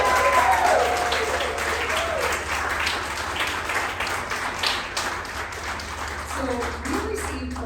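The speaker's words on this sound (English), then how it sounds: "So can we do an applause to every veterinary technician?" Audience applause honoring veterinary technicians at an award event, a steady dense wash of clapping throughout, with voices murmuring underneath.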